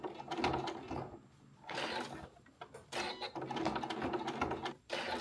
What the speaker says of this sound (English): I've been folding them like this, 3 sections, and then sewing it straight down the middle, and I can do that with my machine.